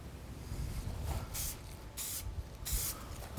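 Short bursts of aerosol spray paint coat a doorbell cover red, with four or five brief hissing puffs separated by pauses over a low background rumble.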